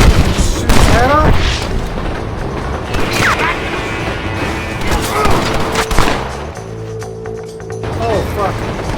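Gunfire rings out in Red Dead Redemption: several sharp shots in quick bursts spread across the stretch, with voices talking and shouting throughout.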